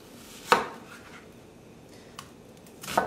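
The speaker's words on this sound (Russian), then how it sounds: "Быстренько порежу лук." Two or three sharp knife chops through an onion on a cutting board, spaced apart, with quiet kitchen background between them.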